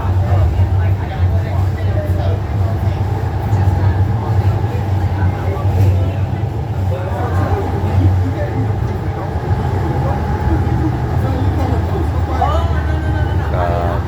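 Steady low rumble from inside a moving train at a US transit center stop, a continuous loud drone with rattling carriage noise and faint murmuring voices throughout.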